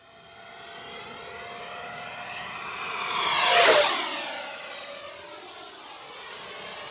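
XFly Sirius 80mm EDF jet model plane flying under throttle, a ducted-fan whine that swells as it sweeps close past overhead, then fades into the distance.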